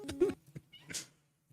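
A cat gives a few short, close meows in quick succession, followed by a higher cry, in otherwise quiet surroundings.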